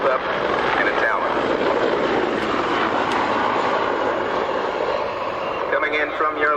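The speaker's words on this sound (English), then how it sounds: "Coming in from your left, the MH-53 Pavlo 4, one of the most sophisticated helicopters in the world." An MH-53 Pave Low helicopter approaches at an airshow, a loud continuous rotor and engine roar holding steady throughout, with a public-address voice speaking over it.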